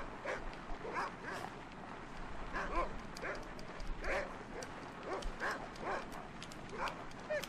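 In the Cabela's Alaskan Adventures video game, a team of sled dogs barks and yips repeatedly over a constant background of running and rushing noise, fairly faint and busy.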